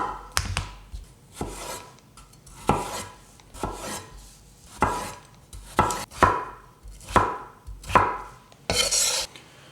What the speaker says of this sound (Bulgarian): Белим 700-800 грама картофи и ги нарязваме на купчета от поне 1 см.